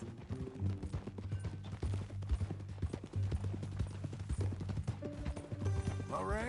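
A horse's hooves clip-clop in a steady, close rhythm for the whole stretch, with music underneath.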